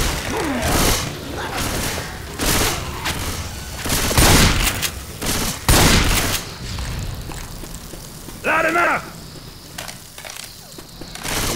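A pipe bomb goes off in the zombie shooter Left 4 Dead 2 amid heavy gunfire: several loud, booming blasts and bursts of shots, with a brief voice in the game mix between them.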